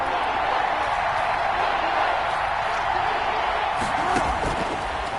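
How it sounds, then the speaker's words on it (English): A stadium crowd in a PS4 football game swells with steady cheering and murmuring ahead of a big third down, a dense wash of noise with a few sharper bursts near the end. "the crowd getting into it as we come up on a big third down"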